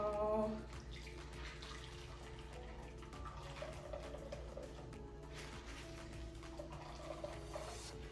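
Milk from tiger nut pulp drips and trickles through a squeezed mesh bag into a container. The soft, continuous watery patter is faint and steady, with a slightly fuller splash near the start.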